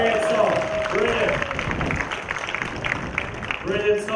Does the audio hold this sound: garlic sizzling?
no